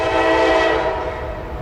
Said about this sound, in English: Coal train going by